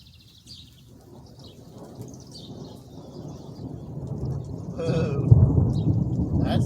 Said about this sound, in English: That was lightning.